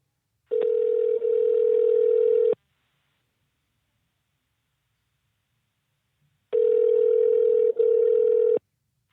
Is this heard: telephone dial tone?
yes